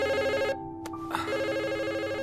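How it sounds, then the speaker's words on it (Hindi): A telephone rings in a scene from the anime Anohana, a clear, repeating electronic ring that stops briefly partway through, then resumes, with no voices. "इतने में युकियात्सु का टेलीफोन बज जाता है।"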